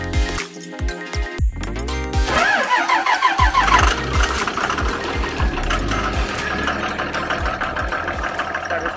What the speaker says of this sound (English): Much louder engine from back here than in the driver's seat